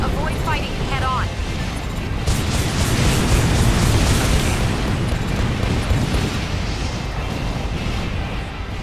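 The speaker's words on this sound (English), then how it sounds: "I guess we're just launching missiles and after missiles" Missile launches and explosions in the mech combat game Armored Core 4 form a dense, continuous roar of blasts and booms with brief whooshing tones, loud throughout, with a voice talking over part of it.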